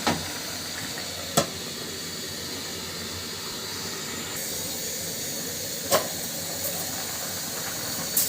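Catla fish and white eggplant curry boiling hard in a pot, a steady steamy hiss and bubbling running throughout, with a few sharp clinks or taps breaking in.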